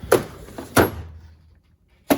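Bottom drawer of a loaded Snap-on, Wright and Mac mechanic's toolbox rolling open, a couple of sharp metallic slides and thuds up close, the last one after a short quiet gap.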